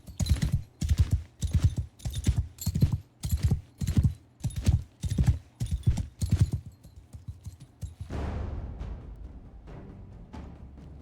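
Horse hooves clip-clop at a steady galloping rhythm in Mount and Blade II: Bannerlord with the Old Realms mod, loud and close for about eight seconds, then give way to a softer rushing noise as the horse moves through trees.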